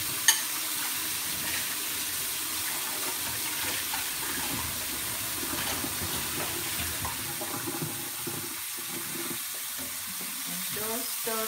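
Green peas and mixed vegetables fry in a pan with a steady hiss and crackle, while scraping and stirring noises come and go near the end.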